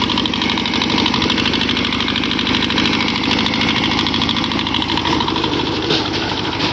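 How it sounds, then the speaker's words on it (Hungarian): A homemade rotary tiller churns clay soil with a steady, loud engine drone and a continuous clattering rattle from the working blades, running without a break and with no voices. "Szépen megy a szerkezetünk, dolgozik a talajmaró."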